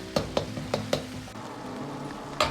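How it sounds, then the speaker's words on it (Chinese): Sichuan hot pot base and Pixian bean paste being stir-fried in oil in a wok, a continuous sizzle broken by several sharp spatula scrapes and taps against the metal, close and clear. "炒出红油后，放入少许的火锅底料"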